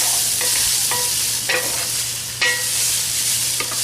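A spoon stirs chunks of scrubbed, unpeeled garden sweet potato into chicken pot pie filling on a Big Green Egg, giving several soft scraping strokes over a steady low sizzle, close and fairly quiet, with no voices.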